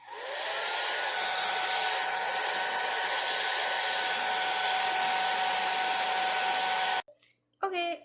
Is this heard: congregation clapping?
no